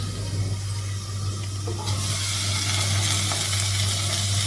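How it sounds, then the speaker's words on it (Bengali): Pointed gourd and potato frying in a pan, a steady close sizzle with occasional stirring scrapes, growing louder and hissier partway through, no voices. "পটল আলুটা ভাজা করার জন্য বসিয়ে দিয়েছি"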